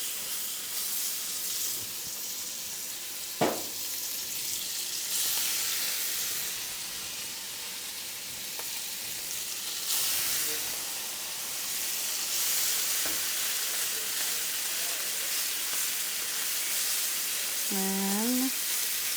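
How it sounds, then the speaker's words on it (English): Bacon strips frying in a pan give off a steady, loud sizzle and hiss that runs throughout, with a brief clink partway through and a short electronic beep near the end. "I will throw the rest of the bacon on"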